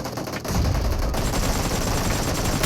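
Rapid gunfire from a battle-royale mobile game, BGMI, rattles in a dense continuous burst over about two seconds, loud and close, with game effects mixed in.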